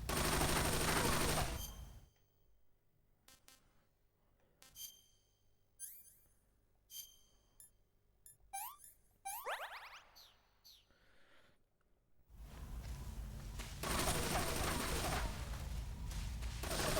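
Gunfire in the video game Metal Gear Solid 3, rapid bursts of shots with bright ringing and ricochet-like tones over a low hum, set between loud stretches of noise at the start and end.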